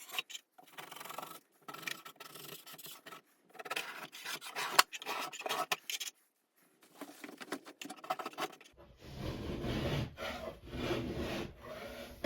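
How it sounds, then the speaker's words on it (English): Trowel blade scraping a bathroom ceiling during a remodel: repeated close rasping, rubbing strokes in bursts with short pauses, turning into a denser, broader scrape near the end. "just scrape those ceilings"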